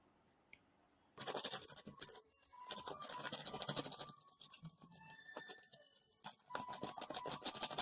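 Bristle brush scrubbing a plastic hair comb, a run of quick rough scratching strokes that stop briefly and then resume, close and fairly loud with no voice.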